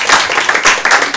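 A brief burst of dense applause for priests at a Rama Navami festival gathering, many hands clapping loudly and continuously over about a second.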